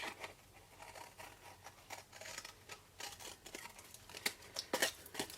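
Scissors snip through paper while pieces are cut for a small 5 cm cube box, a quiet, close run of crisp cuts and rustles that grows busier toward the end.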